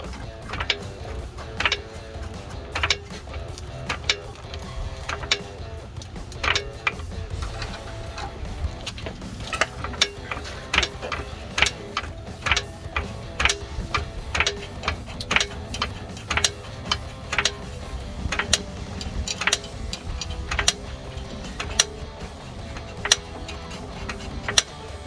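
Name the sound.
ratchet tightening truck U-bolts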